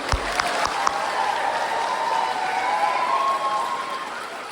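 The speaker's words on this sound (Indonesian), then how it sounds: "mari kita beri aplaus yang meriah untuk kedua pasangan calon" Audience applause for student council (OSIS) candidates at a senior high school debate in Merauke, Papua: a steady wash of clapping from a crowd, moderately loud and even throughout, with a few sharper claps near the start.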